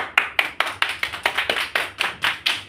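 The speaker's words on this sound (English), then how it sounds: "So again, clap for him." A small class of students claps for a fellow student in a rhythmic, evenly spaced pattern of roughly a dozen distinct sharp claps, close and fairly loud, with no talking.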